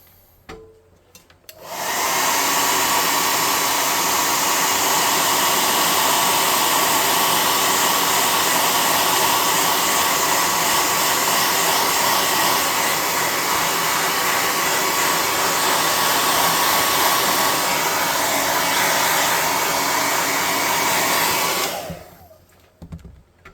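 A hair dryer dries paint on a small cardstock house model, switching on after about two seconds and blowing a loud, steady whir for roughly twenty seconds before cutting off, with no talking.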